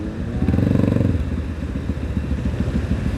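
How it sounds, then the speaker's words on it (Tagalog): Big bike motorcycles passing close by, a loud engine drone that swells early then gives way to a rough rumbling clatter of further bikes, without speech. "Mga big bikes."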